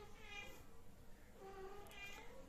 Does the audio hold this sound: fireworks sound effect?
no